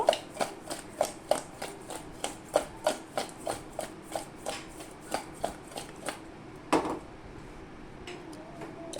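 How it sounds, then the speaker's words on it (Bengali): Fish being mixed by hand with salt and turmeric powder makes a regular series of wet slapping squelches, roughly one per half second, close and moderately loud, tapering off toward the end. "মাছের পরিমাণে লবণ দিয়ে দেব, আর দিয়ে দেব হলুদ গুঁড়ো। একটু মেখে নেব।"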